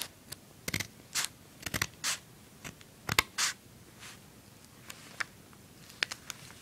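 Scissors snip paper folded for a 3D holiday snowflake, a series of short, crisp cuts in irregular bursts, close and fairly quiet with no talking.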